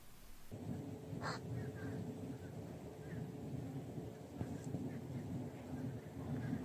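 Crows cawing in a large flock outdoors, a few sharp caws rising over a steady wash of wind or distant rumble, with no one talking.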